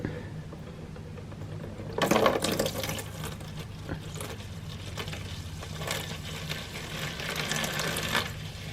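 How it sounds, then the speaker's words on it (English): Water draining from the final drive hub of an old 1956 Economy tractor, a steady trickling, splashing flow running continuously and close, with no speech. "And our last final drive hub. Already got water coming out."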